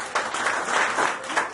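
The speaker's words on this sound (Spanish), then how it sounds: "Dale un aplauso al Rey de Reyes" A church congregation applauds in a short, dense burst of clapping that stays steady throughout, fairly loud and close.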